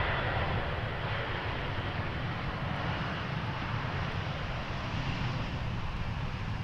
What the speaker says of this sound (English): KLM flight 1986 arriving from Basel.